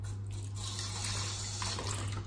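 Fresh tap water runs steadily onto a baby wipe used for washing goalkeeper gloves, a continuous close-up splashing stream with a low hum underneath.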